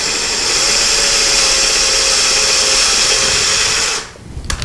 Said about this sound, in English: Next thing we're going to do, drill our next hole.